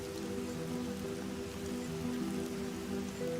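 Steady rain falls in the desert as a dense, even patter with no pauses, heard alongside a low constant hum, no voices.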